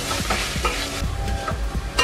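Grated bottle gourd stirred in a pan with ghee to cook off its water: rhythmic spoon scrapes and knocks repeat over a steady frying sizzle, close and fairly loud.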